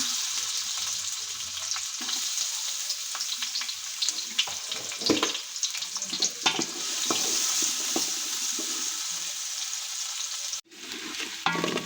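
Chopped onion fries in oil in a pot for chicken biryani, a steady close sizzle with scraping stirs and scattered crackles, briefly cut off near the end.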